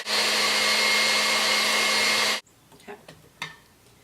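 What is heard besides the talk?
electric mixer whipping orange juice, vanilla and sugar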